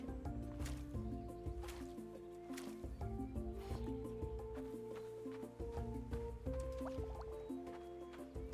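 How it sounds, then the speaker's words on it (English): Water gurgles and drips steadily as a water bag is filled at a well in the farming video game Roots of Pacha, with game music playing throughout. "Filling up my water bag at my well."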